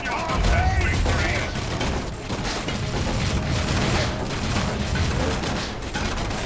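Sustained gunfire from the game Warhammer 40,000: Dawn of War III, dense overlapping shots and booms in a continuous loud barrage with mechanical clatter throughout.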